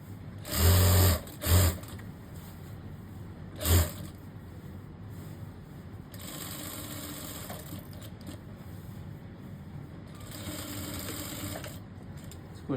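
A sewing machine stitches fabric for trousers in short loud bursts, two close together near the start and another shortly after, then runs in longer, softer stretches of steady whirring with no talking.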